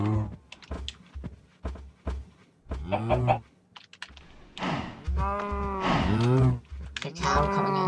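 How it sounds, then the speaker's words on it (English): Cow mooing in Minecraft during a cow hockey match, several drawn-out lowing calls in quick succession mixed with sharp clicks and thunks, fairly loud and close. "A cow coming in."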